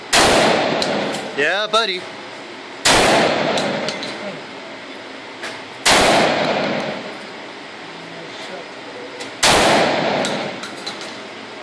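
A Benelli M4 Super 90 shotgun fires four loud, sharp blasts a few seconds apart outdoors, each with a long echoing tail, and someone speaks briefly between shots.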